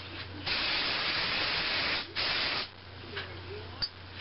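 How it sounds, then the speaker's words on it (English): Garnier Fructis No. 4 Ultra Strong hairspray sprayed onto short hair in two long, loud, steady hissing bursts separated by a brief pause, followed by quieter rustling. "might want to spray some hairspray on it"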